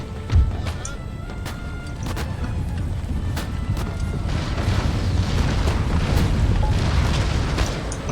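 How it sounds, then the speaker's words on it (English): Cannon fire in the video game Empire: Total War, with deep booms and sharp bursts over a rumbling, continuous battle din throughout. "That was a bloody good cannon."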